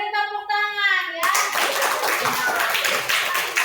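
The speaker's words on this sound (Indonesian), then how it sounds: "Ya, beri tepuk tangan ya." A classroom of children bursts into clapping right after a brief high voice, a dense, close round of hand claps that continues steadily to the end.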